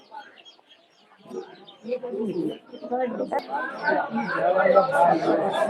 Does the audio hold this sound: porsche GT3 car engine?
no